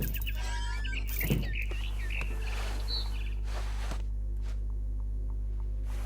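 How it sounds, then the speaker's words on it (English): Bright barn swallow chirps and twittering from the video game What Remains of Edith Finch come in quick bursts at the start, then sparser calls over a steady low hum, with a few soft rustles. "Then I heard chirping outside my window. It was a barn swallow going back to her nest."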